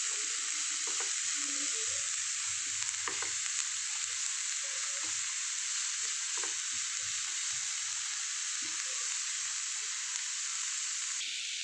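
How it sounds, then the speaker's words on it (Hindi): Chopped onions frying in hot oil in a pan, a loud steady hiss of sizzling throughout with occasional soft scrapes and knocks of stirring, no talking. "अब इसके अंदर प्याज डाल रही हूँ। चलिए अब इसको मैं इस तरह फ्राई कर रही हूँ।"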